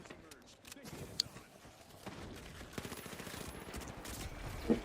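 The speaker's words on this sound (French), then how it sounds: "Je leur mets quelques balles pour t'aider." Gunfire in the online shooter The Finals, with scattered shots and bursts crackling through a busy, noisy mix of game effects for the whole stretch.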